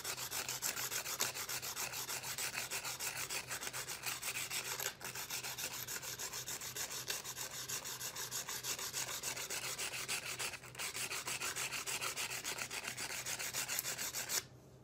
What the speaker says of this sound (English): Handle a good sanding too while we're at it.